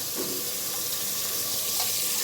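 Chopped onion sizzling in hot oil in a pan, a dense, steady hiss that runs unbroken throughout, close and fairly loud with no voices.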